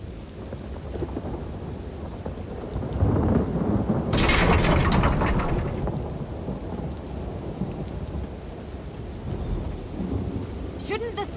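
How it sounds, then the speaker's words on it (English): Thunderstorm in Elder Scrolls Online with rolling thunder and steady rain, a loud crack and rumble swelling midway and another sharp burst near the end, all without talk. "How often are we going to see a tempest like this in one lifetime?"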